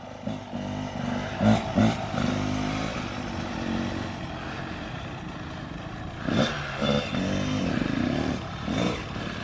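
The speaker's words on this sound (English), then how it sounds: "I got my neighbor trying out the dirt bike." A Kawasaki KX112 supermoto dirt bike ridden nearby outdoors, its engine droning steadily with a few short revs and surges, rising again later in the clip.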